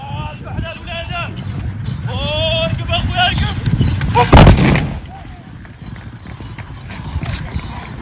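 Gunfire volley from a line of mounted riders at a Moroccan horse fantasia (tbourida) show, one loud broadband blast near the middle amid horse clip-clop, announcer talk and crowd noise.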